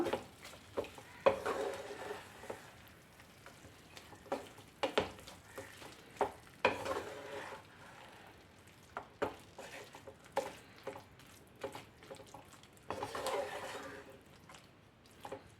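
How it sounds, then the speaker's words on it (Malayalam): Fried sardines and curry leaves being stirred in a sizzling pan for fish pickle, with intermittent scraping clatter over steady frying, with a voice talking at moments. "നേരത്തെ തന്നെ ഫ്രൈ ചെയ്ത് വെച്ചിരിക്കുന്ന മത്തി ഇട്ട് കൊടുക്കാം ആവശ്യത്തിന് കറിവേപ്പിലയും കൂടെ ചേർക്കാം നന്നായിട്ട് തന്നെ ഇളക്കി കൊടുക്കാം"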